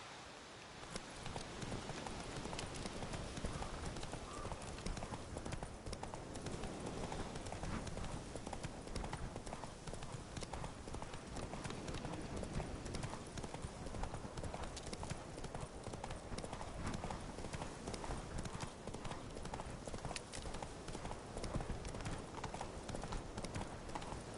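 Steady hoofbeats of a horse clip-clopping through The Witcher III, a continuous rhythmic trot that carries on for the whole stretch, fairly close, with a soft rain-like patter in the background.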